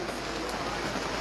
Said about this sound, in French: Vu qu'il pleut